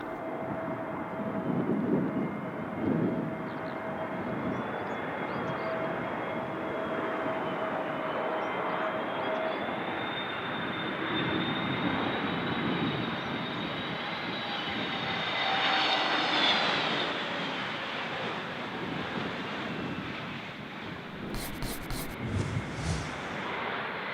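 An airliner landing on runway 09 at Bristol Airport in a gusty crosswind, its engine roar steady and loud throughout with a rising whine midway before easing off near the end.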